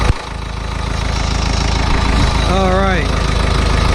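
Isuzu 4BD1T diesel engine idling in an NPR truck just after a cold start, a steady close rumble with a faint rhythmic knock, briefly under a few spoken words.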